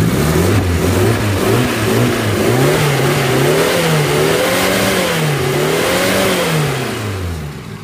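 A 1986 Suzuki Jimny 4x4 engine revs up and down repeatedly, the pitch rising and falling in waves, loud and close, with no talking.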